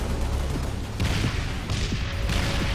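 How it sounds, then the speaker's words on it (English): Plasma Launcher bursts from the video game Halo: Reach detonate in a rapid series of muffled, explosive thumps over a steady low roar of battle, with several distinct blasts rolling one after another at moderate distance. "the Plasma Launcher, a heavy shoulder weapon which tracks and fires bursts of plasma at all manners of targets"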